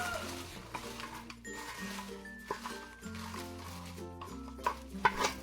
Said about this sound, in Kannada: ಫ್ರೈ ಮಾಡುವಾಗ ಸ್ವಲ್ಪ ತೆಂಗಿನ ಎಣ್ಣೆಯನ್ನು ಹಾಕಿ ಫ್ರೈ ಮಾಡ್ತಾ ಇದ್ದೇನೆ